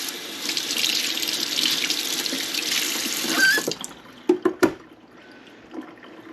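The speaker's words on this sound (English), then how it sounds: "What I'm going to do now, wash my hands here again." Tap water runs steadily into a kitchen sink as hands are washed during chicken preparation, a close, bright rush that stops abruptly, followed by a few quiet knocks and drips.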